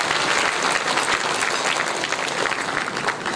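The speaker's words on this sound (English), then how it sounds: "Let's give each other a big round of applause." Applause from a Rotary district conference audience, loud, dense and even clapping from a large crowd filling the whole stretch without pause or talk.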